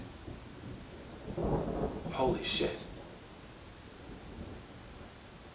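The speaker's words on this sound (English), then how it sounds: "The thunder. It's pouring rain here right now. It's thunder." A deep rumble of thunder rolls over steady heavy rain, with a short startled exclamation from a person.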